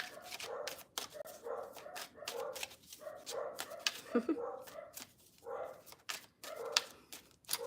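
Several dogs bark repeatedly in a home, sharp yips and woofs arriving in uneven bursts across the whole stretch at moderate distance, with a brief whimpering cry in the middle.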